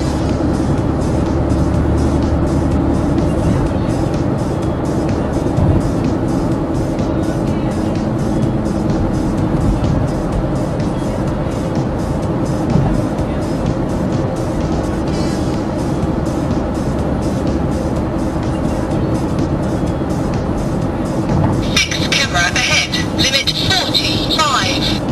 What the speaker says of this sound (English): You heard the overspeed reminder there, that just is letting us know to cool down.